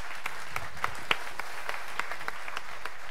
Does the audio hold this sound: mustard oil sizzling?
no